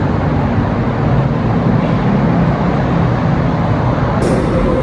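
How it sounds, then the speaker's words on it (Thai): A continuous low rumble and rolling hum from inside a moving Bangkok Pink Line electric monorail train, steady throughout, with a faint hiss near the end and no talking. "มาลองนั่งรถไฟฟ้าสายสีชมพูเนาะ"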